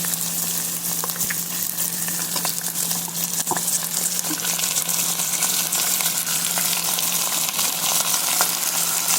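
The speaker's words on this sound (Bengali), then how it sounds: "এই যে মুরগিগুলো আমি এর মধ্যে দিয়ে বেশ কিছুক্ষণ ভাজা ভাজা করবো" Chicken pieces and onions fry in a pan with a steady, loud sizzle, occasional stirring clinks and scrapes breaking through the constant hiss.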